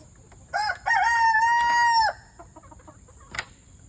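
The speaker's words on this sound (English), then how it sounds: "there's a bunch of broody hens." Chickens and broody hens in a backyard homestead pen: a short call is followed by one loud, long, drawn-out rooster crow nearby, then scattered soft clucks.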